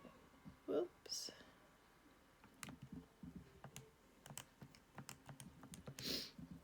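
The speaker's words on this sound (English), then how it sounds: "And you'll type that into your calculator." Soft, quick button taps on a calculator keypad while working out a circle's area, irregular light clicks close to the microphone, with faint murmured speech and breathy sounds around them.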